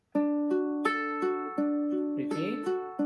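A ukulele plays the opening of the second chorus of a song, with clear plucked and strummed chords ringing one after another, close and alone.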